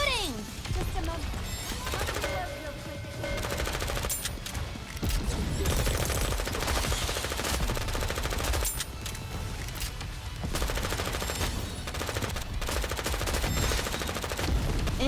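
Gunfire in the game Goddess of Victory: Nikke, dense rapid automatic shooting that runs nearly nonstop with brief lulls, layered with game effects and voices talking.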